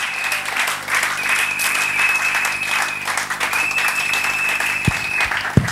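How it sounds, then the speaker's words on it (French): A church congregation claps and cheers for the Lord in sustained, dense applause that fills the room, with a couple of sharper knocks near the end. "est-ce qu'il peut acclamer plus fort le Seigneur?"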